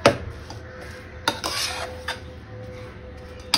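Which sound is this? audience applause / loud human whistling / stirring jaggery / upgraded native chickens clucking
stirring jaggery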